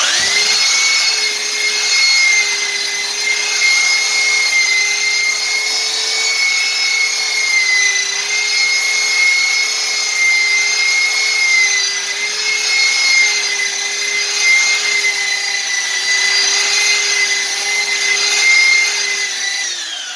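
A belt sander fitted with 36-grit paper grinds across a wooden router-sled form, a steady loud whine with a constant pitch that drones on without pause, near and alone with no talking.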